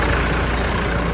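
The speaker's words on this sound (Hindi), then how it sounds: "ये जी ट्रैक्टर और लेज़र जा रहा है।" A tractor towing a laser land leveler passes across a village field, its diesel engine a steady, loud, continuous rumble throughout with no break.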